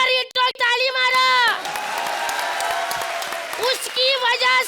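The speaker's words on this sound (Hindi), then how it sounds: "ताली मारा" Studio audience applause on a comedy show, cheering and clapping swelling between stretches of loud sung or drawn-out voices, with talk and crowd noise mixed throughout.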